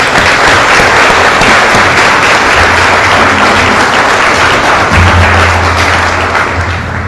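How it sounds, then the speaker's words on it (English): An audience at a US Army brigadier general promotion ceremony gives sustained, loud, even applause throughout, dense and continuous with no talking over it. "Can we please give them all another round of applause?"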